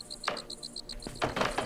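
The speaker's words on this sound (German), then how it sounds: "Ich höre Grillen." Crickets in the video game Viewfinder chirp in a quick, regular high pulse, joined by a few sharp clicks or knocks near the end, with no talking.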